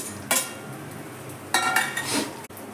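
Mourala fish going into a pot of pui leaf curry with a spatula pressing them down, heard as a few short metallic clinks and scrapes of the spatula against the pot, with quiet pauses between.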